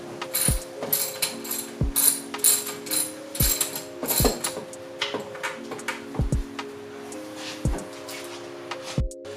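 Ratchet socket wrench clicking as it backs out a small E10 bolt on a BMW F82 M4 during an aluminum chargepipe install, with repeated bursts of fast ratcheting between sharp metallic knocks, close up.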